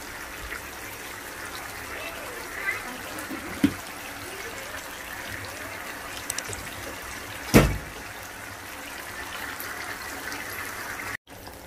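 Water is poured into a pot of brinjal sivangi curry. A faint, steady trickle runs throughout, broken by a few soft clinks and one sharper knock near the end.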